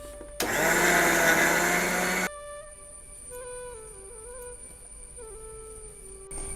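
A kitchen mixer grinder running dry, whirring loudly for about two seconds as it grinds grated coconut into powder, then cutting off to leave a faint background hum.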